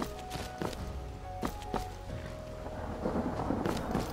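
Steady rain hiss with deep thunder rumbles in the video game Skyrim, a few sharp taps and footfall-like knocks scattered over the storm, with no voices.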